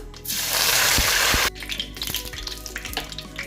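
Curry leaves dropped into hot oil where mustard seeds have just popped, for a lemon pickle, giving a loud, dense sizzling burst for about a second and a half that then drops to softer crackling and spitting, with no talk.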